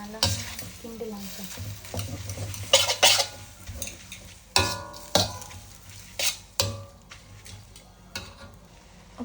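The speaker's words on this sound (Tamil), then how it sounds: "சேர்த்தின பிறகு நம்ம நல்லா கிண்டலாம்." Food being stirred in a pan while preparing white mehun, with repeated scraping and clattering strokes of a utensil over a steady background sizzle, close and fairly loud, no talking.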